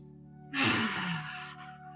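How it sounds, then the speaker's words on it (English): One deep belly breath during a yoga session, drawn in through the nose and released through the mouth, comes as a soft, close exhale lasting about a second over quiet background hum. "Taking deep belly breaths, in and out in through the nose and out through the mouth for a few breaths."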